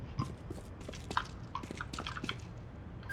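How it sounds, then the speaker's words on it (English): Footsteps climb steps on the CS:GO map Akiba, each landing with a faint, irregular crunch like packed snow or ice, scattered across a quiet background. "It sounds like snow or ice that's being crunched, which shouldn't be there."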